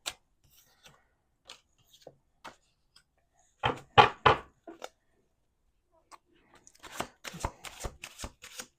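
Tarot cards being shuffled in short bursts: a few light riffles, a louder pair of shuffles midway, then a longer rapid flurry near the end.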